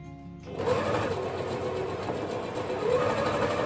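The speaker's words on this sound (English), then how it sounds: "So what I'm going to do is sew the other part in white that I need to do." A sewing machine stitches fabric for an adjustable book cover. Its close, steady mechanical whirr runs continuously after a short quiet start and swells slightly toward the end, with no one talking.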